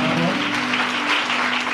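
A church congregation applauds for Jesus, a dense burst of clapping held steady and fairly loud throughout the short moment.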